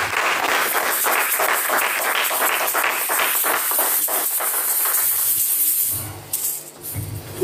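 A church congregation claps in dense, rhythmic applause for about six seconds, then it quickly thins out into scattered claps and quieter room sound.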